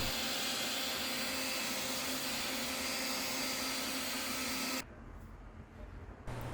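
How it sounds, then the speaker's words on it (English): A vacuum cleaner sucks dust from a PS4 Pro console, a loud, steady close-up whine that runs unbroken and then cuts off abruptly near the end, leaving a fainter, uneven low hum. "remove it with a vacuum cleaner."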